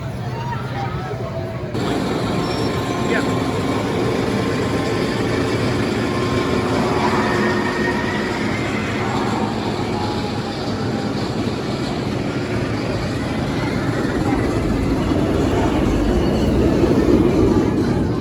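A night ride on the Fancy roller coaster at Kings Island: a sustained loud rush of wind and rumbling, rattling train on track for the whole stretch, with voices mixed into the din.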